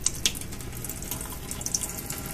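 Buttermilk from homemade butter poured off in a soft, steady liquid trickle with a few faint splashy drips, close and quiet, with no voices.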